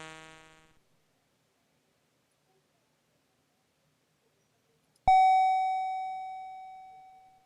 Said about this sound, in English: doorbells I have so far been activating by hitting the spacebar for action